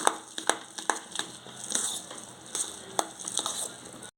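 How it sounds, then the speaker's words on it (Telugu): A semolina (suji) mixture is stirred in a pan, with repeated scraping and tapping strokes at an uneven rhythm and a soft sizzle underneath, close by and with no talk. "మొత్తం కలిసేటట్టు కలుపుకోండి దగ్గర నుండి కలుపుకోవాలి లేకపోతే అడుగు అంటుతుంది"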